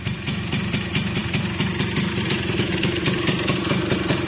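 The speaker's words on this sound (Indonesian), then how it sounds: "Motor masih langsam, enak." A Yamaha RS100 motorcycle's two-stroke engine idling steadily, a close, even putter with a regular pulsing beat and light mechanical clatter, no talk.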